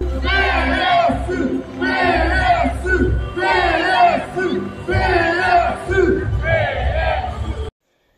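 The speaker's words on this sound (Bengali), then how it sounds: "পরে দেওয়া হয় পিএসসি স্লোগান" A large crowd at a Socialist Party rally in Portugal chants a slogan in loud, repeated rhythmic bursts with brief pauses between each shout.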